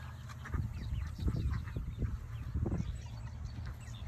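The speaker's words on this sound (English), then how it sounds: "There's the three ducks and most of the chickens." Chickens cluck and murmur softly close by on a farm, with ducks nearby and faint bird calls mixed in over a low outdoor background.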